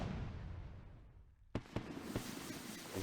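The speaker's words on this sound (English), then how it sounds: "These fireworks are just like so excessive, but it's cool." Fireworks going off in the RuneScape 3 video game: after a steady background hum, three sharp pops burst in quick succession, each leaving a brief crackling tail over continuing ambient noise.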